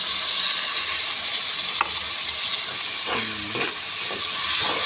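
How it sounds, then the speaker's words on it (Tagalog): Sardines and tomatoes sizzling steadily in a pan for a cabbage sauté, with a short scrape near two seconds and a brief lower clatter of stirring around three seconds, no voices. "Saugan natin ng sardinas."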